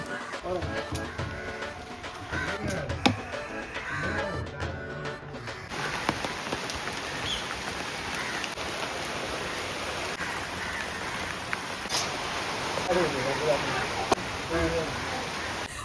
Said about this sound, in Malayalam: മഴ വന്നു കേട്ടോ.